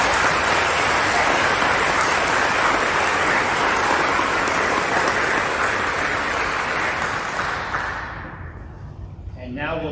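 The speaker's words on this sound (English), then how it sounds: "Let's have a round of applause." A large crowd at a middle school eighth grade promotion ceremony gives a loud, sustained round of applause lasting about eight seconds, then fades as a speaker starts talking.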